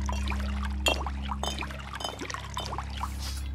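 Seawater is collected in Fallout 4: short splashing, pouring bursts of water come close over a steady low hum, with no voices.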